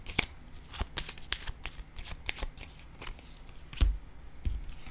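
Tarot cards being shuffled and set down on a table, a run of crisp riffling snaps and soft slaps at an uneven pace, close and alone without talk.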